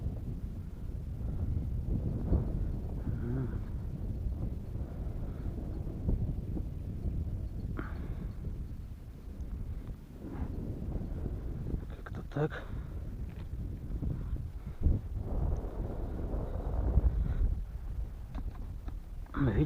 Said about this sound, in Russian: Ветер, блин, поднялся вроде.